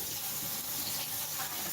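Steady rush of tap water running over pineapples in a home kitchen sink, a continuous close hiss with no talking.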